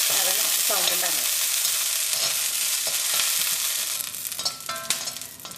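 Washed dried red chillies dropped into hot oil crackle and sizzle loudly and steadily, with a faint stirring scrape and popping that eases toward the end.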